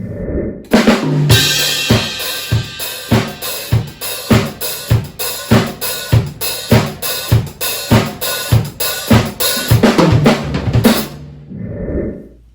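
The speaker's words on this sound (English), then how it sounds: "In disco, you hear this 16th note drive on this hi-hat with this upbeat sound" Disco groove on a drumset, a steady four-on-the-floor kick under a driving 16th-note hi-hat with open accents on the offbeats, loud and close, played for about ten seconds before stopping.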